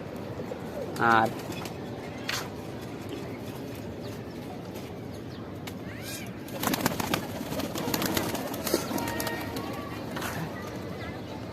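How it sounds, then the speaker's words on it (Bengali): Shahjahanpuri pigeons coo faintly in the background of a home loft while someone talks over them, with a short louder call near the start. "আর এটা হইতাছে আমাদের অনেক শখের একটা কবুতর"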